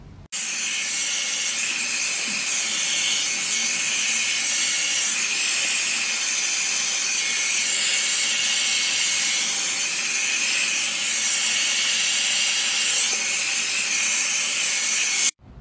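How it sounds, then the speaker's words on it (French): A hair dryer blows steadily on hair, a continuous loud whooshing hiss that holds evenly for about fifteen seconds, then cuts off abruptly. "je vais déjà dans un premier temps me sécher les cheveux pour vous montrer"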